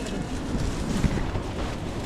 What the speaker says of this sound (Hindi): बहुत तेज हवा चल रही है यार, पूरा टेंट हिला जा रहा है।